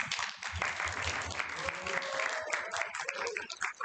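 Online workshop participants clap in a scattered, moderate burst of applause, with some faint background voices mixed in.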